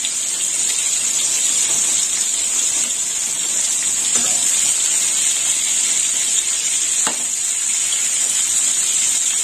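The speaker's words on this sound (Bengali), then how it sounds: "পটলগুলো একটু লাল লাল করে ভাজা হবে।" Pointed gourd (potol) frying in oil in a pan gives a loud, steady sizzle that runs unbroken, with a few faint clinks from stirring.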